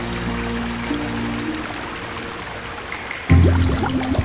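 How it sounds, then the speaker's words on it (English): Elephant blowing bubbles through its trunk in a water hole, a soft trickling water background that gives way to a loud burst of bubbling and splashing near the end. "Blowing bubbles helps clean the elephant's trunk"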